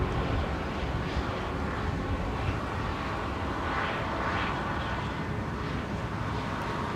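A Ryanair jet taxiing at Manchester Airport, a steady broad engine roar heard from a distance outdoors, continuous and moderately loud with slight swells.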